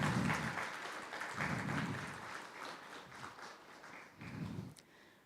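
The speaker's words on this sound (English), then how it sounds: "Let all of us stand and give them a clap." Applause from a standing audience at a finance awareness workshop in Kenya, a fairly faint wash of clapping that swells and fades in a few waves across several seconds.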